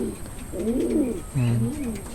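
Racing pigeons coo in a breeding loft, two or three soft, low, warbling calls close by, with faint background hiss and no talking.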